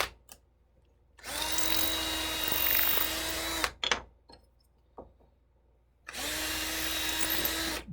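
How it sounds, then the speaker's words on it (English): A power drill bores out a wooden hinge in two sustained whining runs with clicks and handling knocks between them, loud and close with no talk. "Drill this one out to that bigger size."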